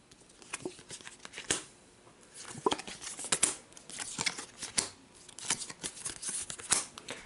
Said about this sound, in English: Let's draw a card for Sarge.